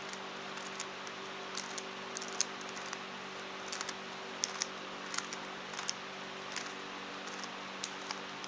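A 3x3 Rubik's Cube is twisted in quick shuffling turns, giving a string of light plastic clicks and clacks in irregular rhythm, close and fairly soft, over a faint steady hum.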